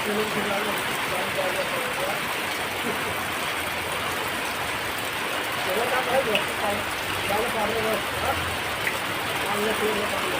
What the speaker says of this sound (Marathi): पाऊस बघा ना पाऊस थांबायला नावच नाही येत